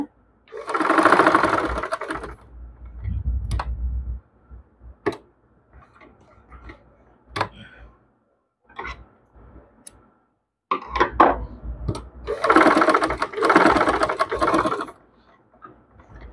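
A sewing machine stitches cloth in two fast, whirring bursts at the start and near the end, separated by quiet ticks and clicks of fabric being handled and adjusted.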